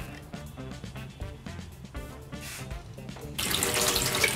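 Water running from a just-repaired household sink tap, a steady splashing flow that swells noticeably louder and brighter toward the end, close and continuous with no talking.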